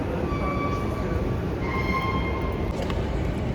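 A metro train in a station, a loud, dense rumble of rolling wheels with faint high-pitched squeals running through it and a brief rise near the end.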